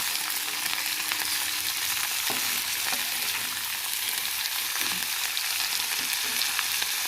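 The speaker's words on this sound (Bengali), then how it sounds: "ফোড়নে দিয়েছি এলাচ, দারচিনি, লবঙ্গ, খুব সামান্য পরিমাণে দিয়েছি। এগুলোকে খুব ভালো করে ফ্রাই করে নেব।" Cardamom, cinnamon and cloves frying in hot oil as a whole-spice tempering, a dense, even sizzle close up with a few faint stirring clicks, steady throughout and without speech.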